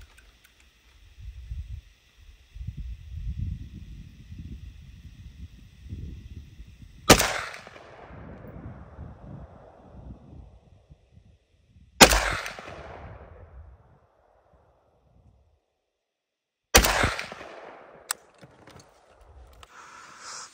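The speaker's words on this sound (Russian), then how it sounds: "И стреляем по мишени." Three loud, sharp rifle gunshots at a target, spaced several seconds apart, each ringing off into a decaying echo, with low rumbling and a high tone before the first.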